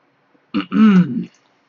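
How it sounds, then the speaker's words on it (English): A single throat clearing, close and distinct, a short gruff rasp lasting under a second against silence. "excuse me for clearing my throat"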